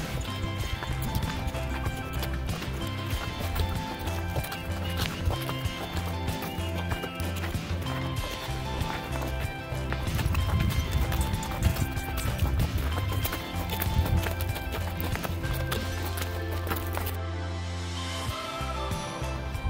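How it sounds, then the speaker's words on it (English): Donkeys walk along a trail near the Rio Grande at Boquillas, their hooves clip-clopping in a steady irregular rhythm, close and fairly clear over outdoor background noise. "We rode donkeys"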